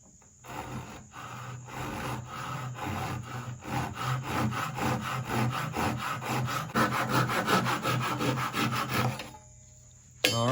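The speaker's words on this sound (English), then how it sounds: "The first one I'm going to test out is the Ryoba saw." Japanese Ryoba saw using its crosscut teeth on a small piece of wood, with rapid rhythmic rasping strokes that build in strength and end abruptly as the cut finishes, close and alone.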